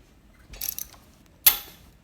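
Ratchet clicks while loosening bolts on a Honda CR85 motorcycle: a short burst of rapid clicking, a pause, then one sharp louder click with a brief ring, close by and without talk.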